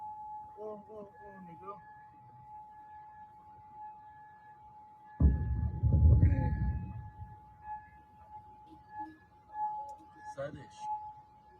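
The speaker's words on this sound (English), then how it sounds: "those siren noises are pretty annoying" A faint siren wails steadily in the background while a person talks, interrupted midway by a loud rumbling burst.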